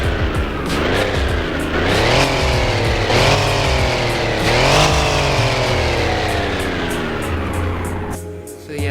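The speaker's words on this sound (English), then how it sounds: "Here's a few revs." An Alfa Romeo in the Roblox game Driving Empire revs hard several times in succession, engine pitch climbing and falling in repeated surges, loud and close, with no idle between pulls and a brief drop near the end.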